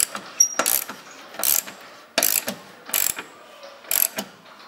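A ratchet tightens Saab subframe bolts during engine sump work, giving four or five close, loud bursts of rapid clicking separated by short pauses, with no talk.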